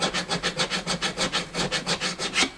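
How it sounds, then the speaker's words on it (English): A diamond grit file rasps back and forth along guitar frets in fast, even strokes, about a dozen rhythmic scraping passes close up, each a bright gritty swish. "these files are fast, man, super fast. They're diamond grit."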